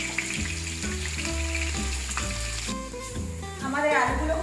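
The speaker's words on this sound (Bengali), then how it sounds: "আমাদের আলুগুলো ভাজা হয়ে গেছে" Potatoes fry in hot oil for a mutton biryani, a steady sizzling hiss running throughout while a melodic music track plays loudly over it.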